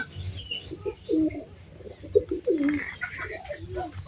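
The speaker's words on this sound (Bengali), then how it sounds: "এই দেখুন এই যে কবুতরগুলো বেবি খাওয়াইতে খাওয়াইতে এদের কি অবস্থা হয়েছে" Pigeons kept in a loft, including breeding pairs raising young, coo in soft, low repeated phrases, several overlapping calls at close range with a few brief chirps and faint background noise.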